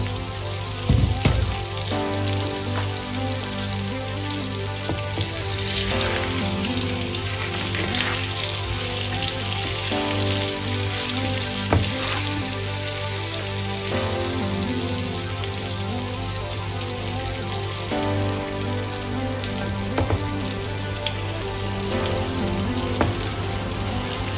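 Navaga fish frying in oil in a pan, a steady close sizzle and crackle with scattered spits and pops running the whole time, no voices.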